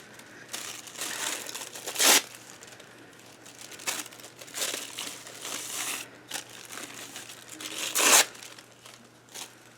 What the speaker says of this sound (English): Oh goodness, I didn't mean to rip all that.